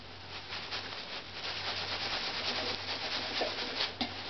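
A cloth works Flitz polish into a violin's varnish in close, steady circular strokes, giving a soft continuous rubbing and swishing at low volume with no talking.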